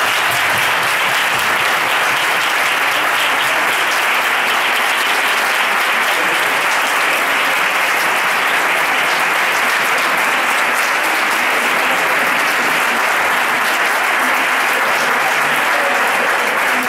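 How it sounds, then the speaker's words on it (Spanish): Long, steady applause from a congress audience in a hall in Seville, dense even clapping that carries on unbroken from start to finish with no voices over it. "me gustaría dar un fuerte aplauso"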